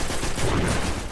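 Rapid crackling bursts of fireworks in the video game Destiny, dense and continuous, loud and close, filling the whole moment without pauses.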